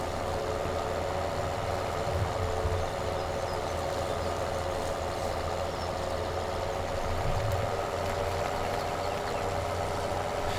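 A video game tractor engine in Farming Simulator 2017 rumbles steadily, low and continuous, with slight swells in effort as it struggles up a hill, no voices over it.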